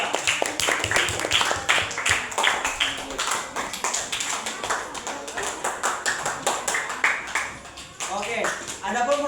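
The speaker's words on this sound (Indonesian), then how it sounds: "Ya, tepuk tangan." Primary school pupils in a classroom clap in quick, uneven bursts of sharp claps, close and lively, with children's voices mixed in before the clapping thins out near the end.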